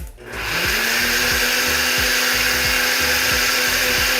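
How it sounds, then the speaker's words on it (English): A blender whirs steadily at high speed while blending smoothie ingredients, with a rhythmic churning pulse underneath as the mix turns over, close and loud with no voices. "Next thing we do is we blend."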